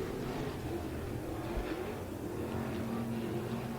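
Stock cars race in a heat on an off-road dirt speedway, a steady, fairly distant drone of several engines heard together, with no talk.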